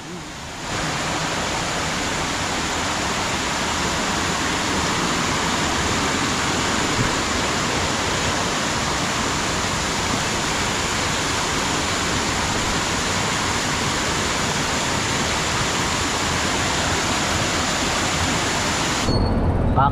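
A Sierra Madre mountain stream roars steadily and loudly for the whole stretch, a dense, unbroken wash of fast water close by.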